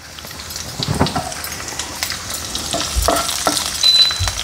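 Green chillies sautéing in a home kitchen pan for chilli chicken, giving a steady close sizzle with stirring scrapes and clatter, occasional louder bursts, and no talking.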